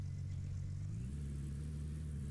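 Car engine in the Gold Rush The Game video game, a steady low idling rumble that shifts slightly in pitch partway through, running alone without voices.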